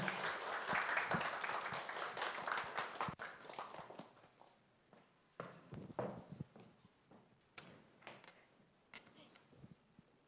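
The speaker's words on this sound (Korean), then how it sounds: "큰 박수 부탁드립니다." An audience at a kindergarten admissions briefing claps for a teacher, loud and dense at first, then thinning into scattered claps and footsteps as it fades out.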